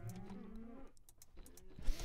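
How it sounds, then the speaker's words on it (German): Cows in the video game Minecraft moo in long, low, drawn-out calls over a quiet background, with a few faint clicks and rustles near the end. "Warum hört man die Kühe überhaupt?"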